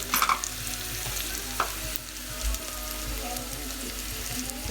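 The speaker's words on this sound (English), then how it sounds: "Okay, I think the onions now are ready." Onions frying in a pan for a home-made Indian goat curry, a steady close sizzle with occasional stirring scrapes throughout.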